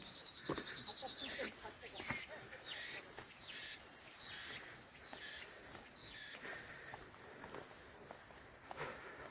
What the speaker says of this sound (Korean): 매미 소리도 나고 뭐 좋네요